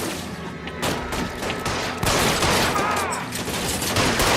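Gunfire in the video game L.A. Noire, dense bursts of rapid shots and fusillades that build and intensify midway, loud and continuous with no speech heard.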